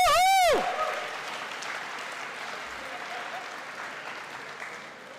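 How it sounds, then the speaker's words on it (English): A convocation audience bursts into sustained applause, dense clapping that fills the hall after a short sharp whistle-like sweep at the start, then gradually tapers while staying fairly loud. "I think that got the loudest applause out of them."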